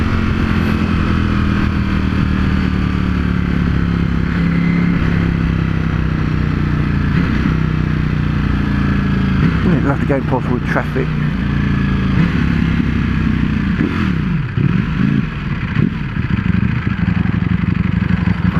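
A Ducati Panigale V4S roars under way, its engine droning loudly and continuously with rising and falling revs and wind rush, while a rider talks over it.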